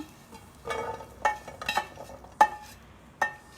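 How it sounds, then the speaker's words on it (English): Cooked chickpeas spooned from a pan onto a plate: a few soft scrapes and distinct metallic clinks of utensil on dishware, spaced irregularly in a quiet kitchen. "Chickpeas are cooked. I'm going to put these on the plate."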